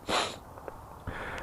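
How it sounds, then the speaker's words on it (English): Two or three short nasal sniffs from someone with a head cold, close to the microphone and fairly quiet, with no talking. "Sorry about my sniffing, I've got a bit of a cold."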